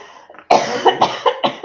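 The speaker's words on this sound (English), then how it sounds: "She's still coughing." A close, harsh coughing fit: one sharp burst followed by several rapid, rhythmic coughs in quick succession.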